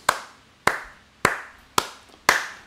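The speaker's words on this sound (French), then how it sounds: "Regardez, même Charles applaudit." Five single hand claps land slowly and evenly, about half a second apart, each sharp, close and distinct, with near silence between them and no voices.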